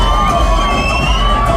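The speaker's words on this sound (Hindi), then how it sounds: "भीड़ बहुत थी एंड उनका रिएक्शन सुन लो आप ही" A packed cinema crowd at a Tamil film screening cheers and shouts loudly and continuously, with whoops and children's voices mixed into the dense roar.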